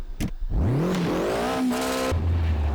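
A race car in the Assetto Corsa video game revs hard, its engine pitch sweeping up through the gears in a loud continuous roar with a brief tire squeal mixed in, up close and with no talk.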